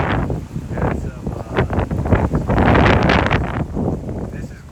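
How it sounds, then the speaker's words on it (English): Heavy outdoor wind buffets the microphone in continuous loud gusts, giving a roaring, rumbling noise that swells and eases over a few seconds. "Wind's blowing that way pretty good."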